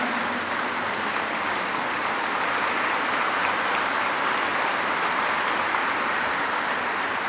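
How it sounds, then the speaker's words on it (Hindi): A large audience at an inaugural session of a spiritual university gathering applauds loudly and steadily for the whole stretch, a dense, unbroken wash of clapping with no talk over it. "जोर से ताली बजा करके 1 मिनट के लिए खड़े होकर के अभिवादन करें।"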